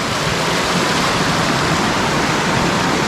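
Waterfall at Barangay Gambodes in Arakan, North Cotabato, roaring as a dense, steady wash of falling water, loud and continuous throughout with no voices.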